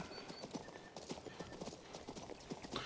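A horse's hooves clip-clop in a steady walking rhythm in King's Bounty 2, quiet and regular, with faint ambient background under the footfalls.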